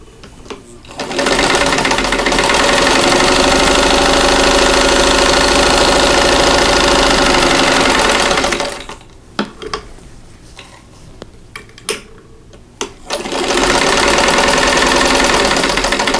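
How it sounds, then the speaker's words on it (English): A sewing machine stitches quarter-inch seams along a drawn line on a pinned State House quilt block. It runs loud and steady for about eight seconds, pauses with small clicks and handling noises, then starts up again. "sew on both, a 1/4 inch away from both sides of that drawn line"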